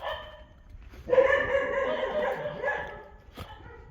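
A dog barks from somewhere up ahead on a night street in Beau Bassin, Mauritius, one drawn-out, whining bark at moderate distance over quiet outdoor background.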